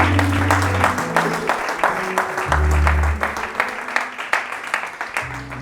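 A church congregation applauds the Lord with sustained, loud clapping from a crowd, and low sustained musical tones run beneath the applause.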